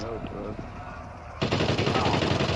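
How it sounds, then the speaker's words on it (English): Gunfire in the survival shooter Deadside comes in as a sudden burst of rapid automatic shots midway through, loud and sustained after a quieter stretch where players chat. "That's you shooting at him?"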